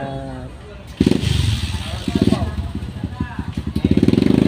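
A motorcycle engine runs close by with a steady, pulsing idle and occasional throttle blips, heard alongside a nearby voice talking over it.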